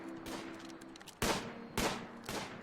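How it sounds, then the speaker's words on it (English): Gunfire in the video game RimWorld cracks out as a few loud, separate shots about half a second apart, over a quieter patter of distant fire. "Shooting all around."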